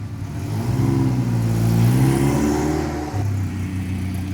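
A DF Goblin kit car's engine revs up and pulls hard while driving, climbing in pitch then dropping back, loud and close with a raspy mechanical edge.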